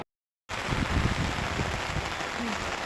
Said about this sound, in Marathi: इतका जोराचा पाऊस लागला होता की खूपच जोराने पाऊस चालू होता